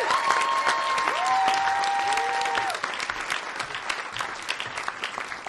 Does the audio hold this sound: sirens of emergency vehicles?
no